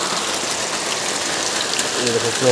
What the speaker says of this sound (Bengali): খুব বেশি বৃষ্টি দিচ্ছে আজকে।